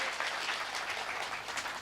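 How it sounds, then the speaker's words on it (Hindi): A poetry recital audience claps together in a steady, dense patter of applause that fills the short stretch, with no speech over it. "एक बार ताली बजा के मुझे आदेशित कर दीजिए।"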